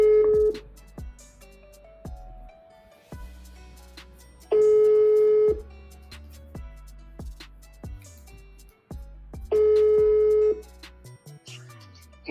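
A telephone call placed from an office sales line, with repeated long ringback tones in a steady rhythm and short clicks and beeps in between, clear and close.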